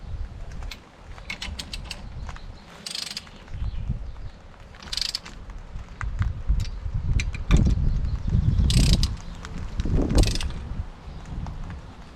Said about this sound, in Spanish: apretamos en estrella hasta que nos dé el claca claca de la dinamométrica